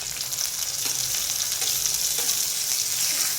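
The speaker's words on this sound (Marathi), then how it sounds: "टोमॅटो चांगला भाजून घ्यायचा आहे कांद्यामध्ये।" Onion and tomato fry together in a pan for a home-style masoor dal dish, producing a loud, even, close-up sizzle with faint stirring scrapes and no talking.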